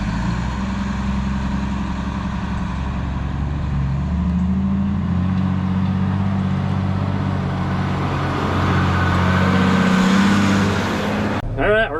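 A Volvo 220G wheel loader's diesel engine runs steadily at close range, a low continuous rumble that swells slightly near the end before a brief sharp sound cuts in.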